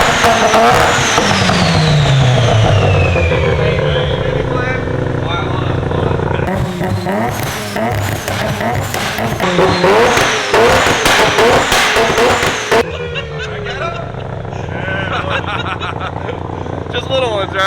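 A loud car engine with flame-spitting twin exhaust pipes revs hard in close, repeated rising and falling bursts with crackling exhaust, while people talk over it.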